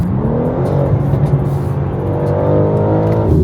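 A BMW G80 with about 660 to 680 horsepower and all-wheel drive accelerates hard, a loud, steady engine drone with a rising tone that holds throughout without talk.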